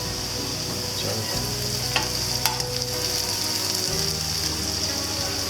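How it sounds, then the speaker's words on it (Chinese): Minced garlic and red chilli frying in hot oil in a wok while making salted egg yolk prawns, a dense continuous sizzle like heavy rain, with a few faint metallic clicks and no talking. "爆香这个蒜米"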